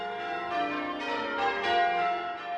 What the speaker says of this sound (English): The bells of Brierley Hill have been ringing on and off from St Michael's Church for more than 250 years.